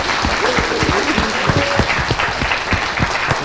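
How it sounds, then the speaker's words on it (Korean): Studio audience applause on a Korean political talk show, with distinct, fairly close individual claps in a quick, uneven rhythm over a steady crowd wash, loud and continuous throughout. "박수."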